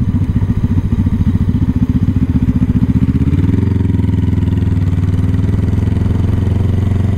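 A motorcycle rides along a neighborhood street, its engine a loud, close, continuous rumbling throb that shifts to a deeper, steadier drone midway.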